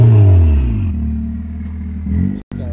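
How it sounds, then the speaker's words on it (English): A turbocharged 9th-generation car engine with no exhaust revs up with rising harmonic pitch, eases off, then surges again before a sharp cut; loud and close, no talking. "Hear the turbo crazy."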